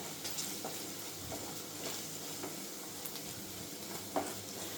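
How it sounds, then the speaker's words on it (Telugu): Maggi masala powder being stirred into palak paneer curry in a pan, a soft continuous scraping with a low sizzle underneath, quiet and steady with a few brief clinks of the spoon. "మ్యాగీ మసాలా ప్యాకెట్, ఒక ప్యాకెట్ పూర్తిగా దీంట్లోకి వేసేసుకోండి. వేసుకుని మొత్తం అంతా ఒకసారి బాగా కలపండి."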